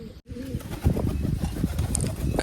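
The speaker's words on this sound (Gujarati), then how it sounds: "તો કબૂતર નીચે હાથ બોલાવવાની ટ્રાય કરીએ આપણે." A pigeon coos softly and close by as it comes down to feed from a hand, its low murmuring notes repeating over a few seconds.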